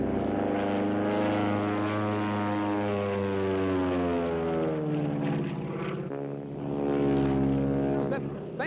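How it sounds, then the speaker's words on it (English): A Stearman biplane's radial engine drones loud and steady through a triple snap roll, its pitch sliding down and then rising again as power changes, with a voice talking over the engine. "He's one of the few people who can do that triple snap in a steerman"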